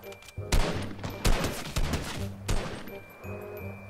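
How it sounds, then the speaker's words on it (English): Rapid bursts of gunfire in a Fortnite match, several loud close volleys in quick succession with short gaps between them and a few fainter shots trailing off. "I heard shooting"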